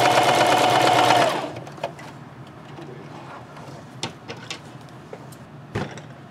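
A sewing machine stitches a scrub cap in one short, loud whirring run near the mic, then stops; faint handling clicks and taps follow in the quiet.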